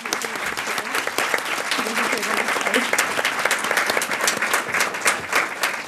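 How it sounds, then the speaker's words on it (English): An audience at a congressional briefing breaks into sustained applause, a thick continuous patter of many clapping hands filling the room for several seconds, with some faint voices underneath. "So let's give them all a round of applause."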